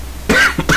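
Two short throaty coughs from a person, close and fairly loud, the second following after a brief pause, with no talking.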